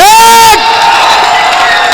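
At a Hindi comic poetry recital, a single loud sustained whoop rings out up close, then the audience breaks into steady, noisy clapping and cheering that carries on to the end.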